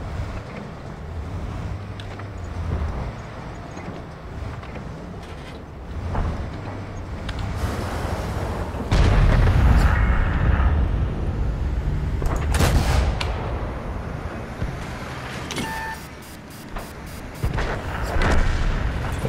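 Heavy tank-gun shots and booming impacts in a tank video game, played from a Tier 6 British wheeled vehicle, with a big deep blast near the middle standing out over engine rumble and wind-like background noise.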